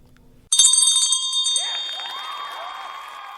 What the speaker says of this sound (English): The bell was rung in celebration for an item that was successfully fixed by a volunteer at a repair cafe